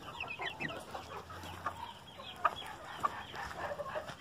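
Several chickens, including a Polish rooster and a grey hen, cluck and murmur close by, with occasional sharper squawks over a quiet farmyard background.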